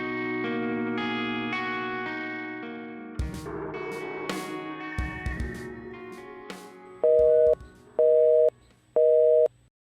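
A phone call fails to connect because the number is switched off, heard as a sequence of tones and electronic noises followed by three evenly spaced, loud beeps of a busy signal, with no voices.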